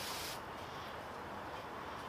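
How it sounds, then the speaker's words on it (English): Fast-evaporating degreaser sprayed from a small zip pump sprayer, a steady close hiss of misting spray that starts strong and continues evenly, with no talk. "So I use my little zip sprayer here with my fast evaporating degreaser."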